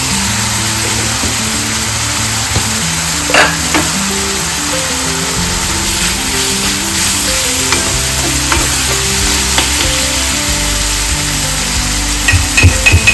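Tomato and onion frying in oil with spices sizzle loudly and steadily, close up, with repeated scraping and clinking of a spoon stirring against the pan.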